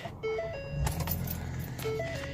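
A car starts up close by: door-open chimes ding, a key rattles, then the engine cranks and catches into a steady idle, with a second pair of chimes near the end.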